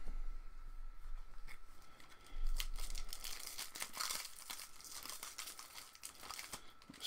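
Fingers tear and work at the foil wrapper of a Magic: The Gathering M15 booster pack, producing close, continuous crinkling and crackling with sharper rips scattered throughout.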